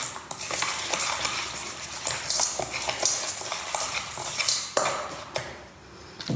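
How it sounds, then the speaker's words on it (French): Pink-clay-colored bath salt is stirred by hand in a small bowl, a close gritty scraping swirl with occasional light clinks against the bowl, steady throughout, with no talking. "Donc on remélange encore un petit peu."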